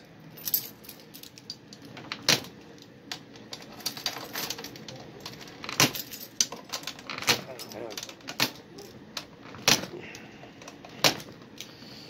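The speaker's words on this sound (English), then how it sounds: "I wonder if I can just use my keys." Metal keys jangle and clink in sharp, irregular bursts while being used as a makeshift tool on a Volkswagen Squareback seat during a low-back seat conversion, close and fairly loud over faint workshop background.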